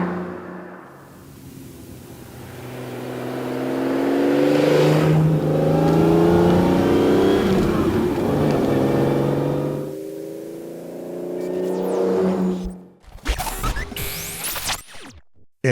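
A Ferrari Daytona V12 engine revs up and down in long rising and falling sweeps, loud and close, then cuts out before brief sharp mechanical bursts.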